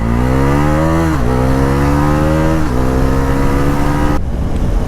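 A KTM Duke 390 motorcycle accelerates hard and loud, its engine note climbing through the gears with two quick dips at the shifts before cutting off near the end.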